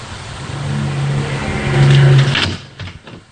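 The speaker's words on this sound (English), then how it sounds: "Now that truck went by," A truck passing at night, a steady rumbling drone that swells to a peak and then recedes into the distance, with no talking.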